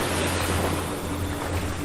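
An ocean wave washes in and draws back at the shore, heard as a steady, loud broadband rush with a low rumble and no voices.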